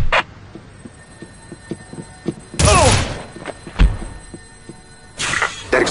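A loud explosion in the sci-fi shooter Red Faction blows out a docking bay door. It is a broad, roaring blast lasting about half a second, followed by a sharp thud and a later second rumbling burst, over quieter game ambience.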